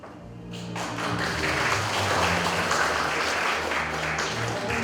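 Applause from an audience at a Korean forum award ceremony, a slight pause before clapping swells in and stays full and steady, with low hum and a few thumps beneath.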